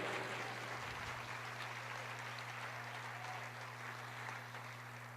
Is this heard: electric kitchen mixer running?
no